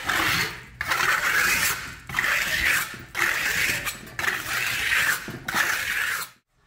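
A trowel scrapes over fully dried decorative plaster to clean off sharp edges: five rough, rasping strokes with brief pauses between them, close and fairly loud, ending in silence.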